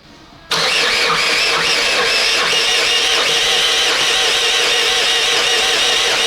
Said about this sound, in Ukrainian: Настав час першого пуску. Будемо